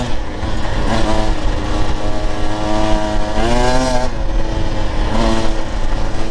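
Husqvarna TE 150 TBI two-stroke dirt bike engine pulling loud and close in fourth gear, its pitch climbing and dipping through several throttle surges with a steady gritty drone throughout.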